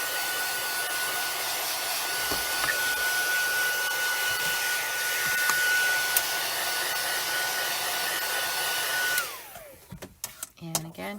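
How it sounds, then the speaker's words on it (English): Heat tool drying stamping ink in a crafting setup, a loud, steady whooshing blower with a thin whine running for about nine seconds before switching off and winding down, followed by faint handling noises. "I'm just going to take the heat tool to this and set it real quick so that we know our ink is all dry"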